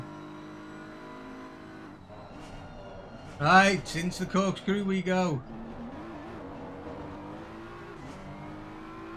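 A BMW race car engine roars loudly for a couple of seconds during a sprint championship race, rising and falling in pitch through gear changes, while someone talks over the steady background noise.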